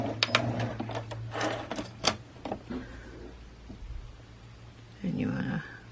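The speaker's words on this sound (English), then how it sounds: "do a few stitches of back stitching." A sewing machine stitching a fabric face mask runs in several short, rapid back-stitching bursts, close and fairly quiet, with pauses between runs and a soft voice speaking in the background.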